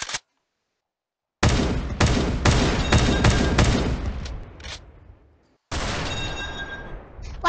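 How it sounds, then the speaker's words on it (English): Laser cannon and ray gun firing in the Roblox game Brookhaven, heard as loud bursts of rapid shots, a short blast at the start, then a dense run of repeated zaps that fades away before another loud burst begins. "Okay, we got a ray gun here. Wow! I got a laser cannon."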